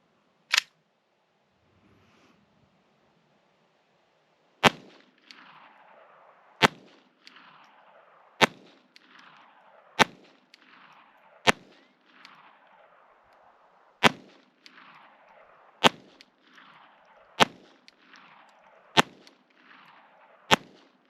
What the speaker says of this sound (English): we're going to be starting off with the Glock 44, 22 long rifle. Got 10 rounds we're going to pump into it.